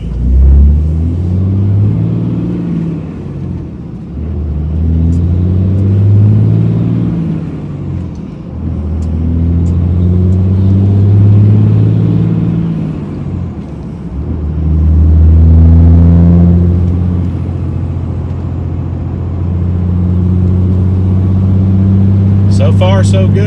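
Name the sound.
2003 Dodge Cummins diesel pickup truck driving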